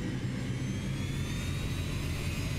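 Falcon 50 business jet engines idle while the plane taxis in a flight simulator game, a steady, even whine with a low rumble beneath it throughout, and no speech.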